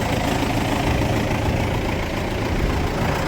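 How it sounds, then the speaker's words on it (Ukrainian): A tractor engine idles close by, giving a steady, dense rumble with no change in pace and no voices over it. "Так, будемо завозити трактор."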